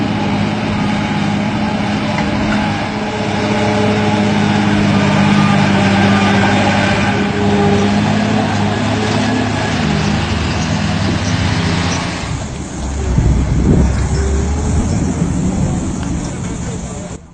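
Heavy lorries rumble and idle at a limestone quarry in Dindigul district, Tamil Nadu, their low engines droning loudly throughout. A voice talks over them, and a heavier engine surge comes near the end.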